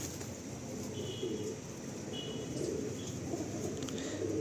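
Male pigeons of Malwai, Madrasi or Andhra breed cooing in a loft, soft low coos recurring under a steady background hum, with faint chirps, no talk.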